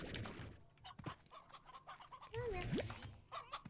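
Chickens cluck in the Slime Rancher video game in a busy, cluttered stretch of clucks, chirps and game effects. A rising squawk sounds near the end.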